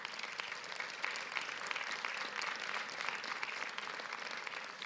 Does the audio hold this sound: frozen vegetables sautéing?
no